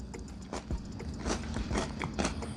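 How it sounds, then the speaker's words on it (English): Someone bites into crunchy, crispy fried potatoes served with a pancake breakfast, giving close, quiet crunches and chewing in a short burst with no talk. "I hope you guys heard that crunch."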